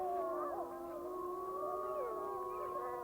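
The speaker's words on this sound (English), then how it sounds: "the howls of the Druid, Slough, and Agate packs could be heard along Yellowstone's entire northern range" Wolf packs howling across Yellowstone's northern range, several long overlapping howls rising and falling together in a steady chorus, distant and sustained.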